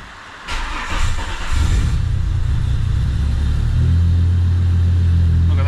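A Holden VY Commodore running on a manual ECU cranks and fires up about half a second in, then settles into a steady, close rumbling idle that deepens and grows louder after a few seconds.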